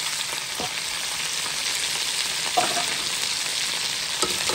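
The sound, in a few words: onions frying and being stirred in a pan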